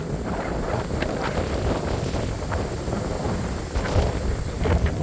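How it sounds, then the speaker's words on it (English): Strong wind buffets the microphone outdoors, a constant loud rushing with gusty surges and rumbling low-end flutter, no voices present. "See, I'm not joking about the wind."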